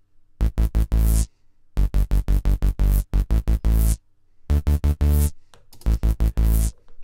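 Untreated dancehall mid bass, loud and heavy with thick low end, hitting in clustered rhythmic stabs with short pauses between phrases and no talking.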